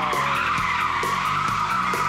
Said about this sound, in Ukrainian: Человек делает селфи, а вокруг него дрифтует машина.